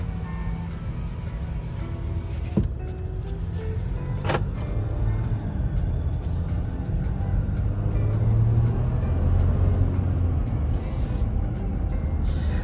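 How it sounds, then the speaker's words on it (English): A 2021 Jeep Gladiator Rubicon EcoDiesel engine running, a steady low diesel drone heard from inside the cab that rises slightly toward the end, with a couple of brief clicks and rattles. "it's definitely got a baby diesel sound"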